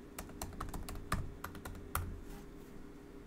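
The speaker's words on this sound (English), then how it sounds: "Then you want to type your password" Rapid keystrokes on a computer keyboard as a password is typed, a quick irregular run of clicks with a few louder key presses, close and alone without talk.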